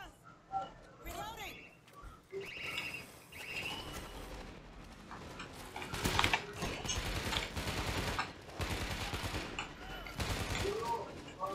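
Automated gun turrets in World War Z: Aftermath firing rapid bursts in a hospital parking garage, a dense, steady rattle of shots from around six seconds onward with a voice talking over it.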